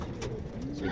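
Racing pigeons coo softly at close range, a brief low burbling call over a quiet background.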